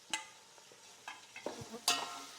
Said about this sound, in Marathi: आता मस्त परतून घ्यायचा आहे कांदा